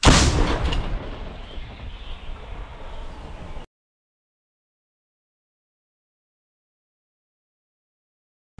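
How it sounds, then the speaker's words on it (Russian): A loud, booming blast of Russian artillery firing on Ukrainian positions rings out, then decays over a few seconds before silence. "Орудие! Выстрел!"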